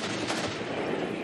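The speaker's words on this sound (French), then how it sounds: "Les canons continuent de retentir dans l'est de l'Ukraine." Artillery cannon fire along the front in eastern Ukraine during the war, heard as a loud, continuous rumbling barrage with no clear gaps between blasts.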